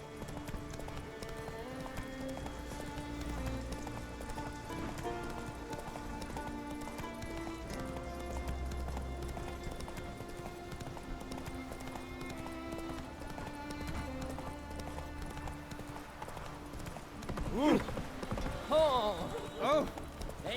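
A horse gallops in The Witcher 3: Wild Hunt, its rhythmic, continuous clip-clop of hooves running under steady in-game music, with a brief louder burst of activity near the end.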